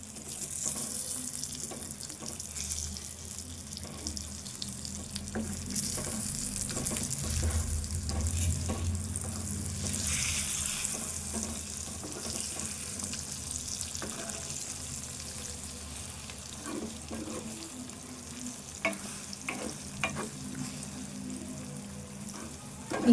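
Onion and egg fry sizzle steadily in a pan as a spoon scrapes and stirs the mixture, with soft clinks and a broad hissing wash throughout, close and moderately quiet.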